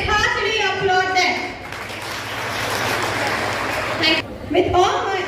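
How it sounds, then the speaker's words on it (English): Crowd clapping at a college graduation day celebration rises as a dense wash between announcements, with a speaker talking before and after it. "Let's heartily applaud them."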